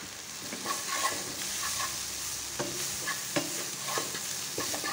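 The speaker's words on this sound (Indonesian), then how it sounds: "Kita aduk sebentar." A spoon stirs potatoes and mixed vegetables, seasoned with salt and ground pepper, as they fry in a pan: a steady sizzle runs throughout, with scraping stirs landing at irregular intervals, close and moderately loud.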